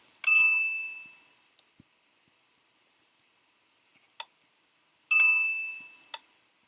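A Minecraft chime rings out twice, each a bright ringing ding that decays slowly, with several soft clicks and ticks scattered between the two strikes.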